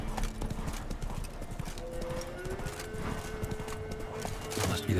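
Hooves of Roach, the horse in The Witcher 3, beat in a quick, steady clip-clop rhythm, close and fairly loud, over a faint tonal background.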